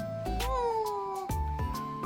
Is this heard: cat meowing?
yes